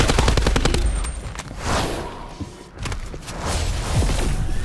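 Rapid bursts of machine gun fire in a first-person zombie shooter video game, dense repeated shots for several seconds with brief pauses, close and loud throughout.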